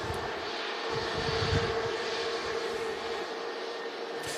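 An Airbus A321neo at Manchester Airport produces a steady, moderately distant engine roar that swells slightly and holds for several seconds, with no talking.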